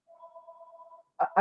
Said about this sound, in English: I'm sorry that my phone is ringing.